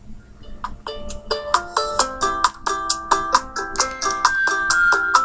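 A bright, synthetic video game soundtrack plays a bouncy melody of short, evenly spaced chime-like notes over a soft, low backing, holding a steady moderate volume throughout.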